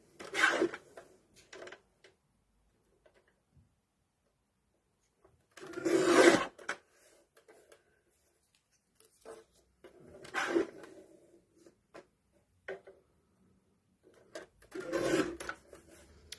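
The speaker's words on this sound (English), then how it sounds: "I am going to invest in another guillotine because it is very noisy" Three loud, rasping cutting strokes separated by long quiet gaps, with a few lighter clacks and shuffles between them, like a paper guillotine chopping through a stack.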